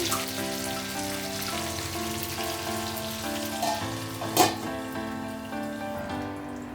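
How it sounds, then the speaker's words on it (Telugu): Shell-on tiger prawns fry in hot oil with a steady crackling sizzle and a few louder pops, while soft tonal music plays underneath. "గోల్డెన్ కలర్ వచ్చే వరకు ఫ్రై చేసుకోవాలి."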